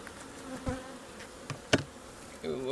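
Honey bees buzz around an open hive during an inspection, individual insects droning close by in short passes with small clicks and knocks, fairly faint and with no talk.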